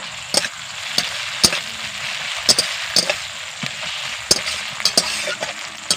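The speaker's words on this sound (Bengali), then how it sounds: "এবার আমি আদা রসুনকে ভেজে নেব" Ginger and garlic paste frying with onions in a pan for a fish kaliya: a continuous close sizzle with sharp spatula scrapes and knocks at irregular intervals, no talking.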